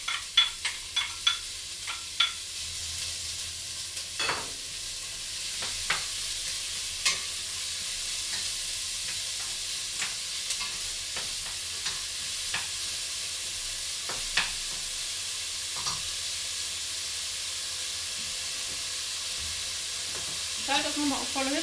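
Onions and bacon fry over high heat in a soup pot, a steady crackling sizzle punctuated by repeated scraping clacks of a spoon pushing them around; no voice is heard.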